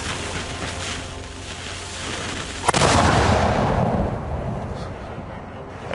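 A black powder cannon fires once with a sudden loud blast partway through, followed by a deep rumbling roar that slowly fades. Steady background noise runs throughout, and there may be faint voices.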